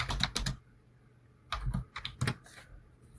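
Fingers type on a computer keyboard while entering Java code, producing short clusters of close, quiet keystrokes with a pause between the bursts.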